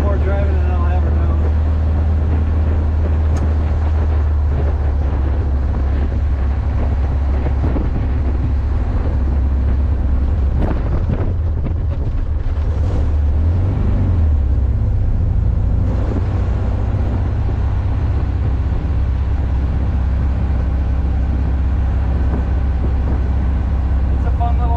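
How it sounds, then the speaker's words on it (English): A 1977 Bremen Mini-Mark kit car with a rear-mounted Volkswagen engine drives along, its steady low engine drone and road rumble filling the cabin continuously, with a person talking over it. "Rear engine Volkswagen engine."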